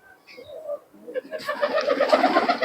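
Pigeons coo in a rapid, layered chorus close by, the throaty calls swelling and filling the space after a quieter start, with a voice speaking briefly beneath.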